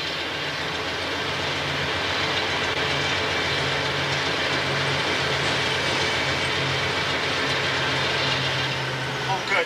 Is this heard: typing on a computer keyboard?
no